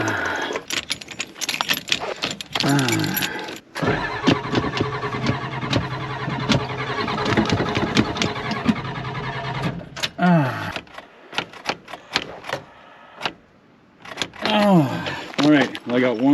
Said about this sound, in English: let's fire up the tow rig